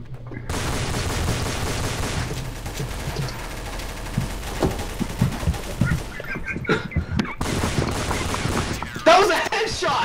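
Pistol and other gunfire in Counter-Strike: Source cracks in rapid overlapping volleys, loud and busy throughout, with some game sounds mixed in.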